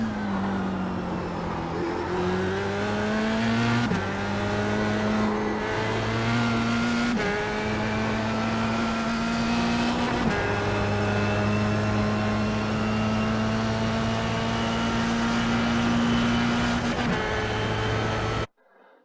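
Formula Sprint race car in iRacing at Summit Point, its engine climbing steadily in pitch through repeated upshifts, easing off for corners and accelerating again, loud and continuous from the cockpit before cutting out abruptly at the end.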